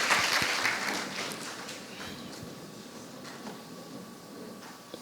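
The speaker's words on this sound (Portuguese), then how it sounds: "Aplauda o Senhor e senta-se." A church congregation applauds during a sermon, the clapping loudest at the start and then fading to a softer scattered patter over a few seconds.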